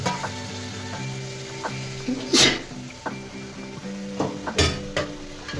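Tomatoes, beans and carrots sizzle as they are stirred and fried in a pan, a steady frying hiss broken by a couple of louder scraping stirs, with a faint tone humming beneath.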